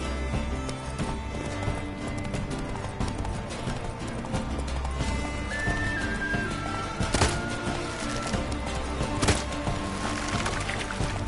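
Roach, the horse in The Witcher 3: Blood and Wine, gallops with rhythmic hoofbeats over a dense game soundtrack and ambience, with a few sharper accents along the way.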